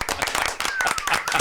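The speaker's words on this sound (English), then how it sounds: "We know when to applaud, don't we?" A studio audience on an afternoon radio comedy show breaks into brisk, close clapping, a dense patter of hand claps running steadily throughout with a faint whistle-like tone drifting across the middle.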